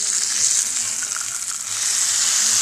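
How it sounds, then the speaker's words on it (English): Sauce poured over a resting steak sizzles loudly and steadily in a hot pan, a dense continuous frying hiss with no voices. "sizzle it right over the top of that steak."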